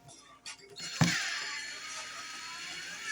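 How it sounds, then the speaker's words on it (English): A ratcheting, creaking metal mechanism as bolts are run down to lift a shifted top plate on a tabletop, with a sharp clunk followed by a steady grinding whir, close and fairly quiet. "You want to run the bolts down."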